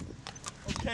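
Hooves of a carriage horse clip-clopping on the streets of Valletta, Malta, a few close, distinct steps over a short moment, mixed with street noise and voices nearby.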